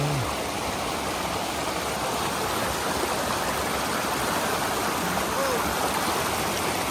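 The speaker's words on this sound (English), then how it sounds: "See the falls coming down? Raging water here." Steady roaring rush of falling water, loud and continuous throughout, like a powerful waterfall close by.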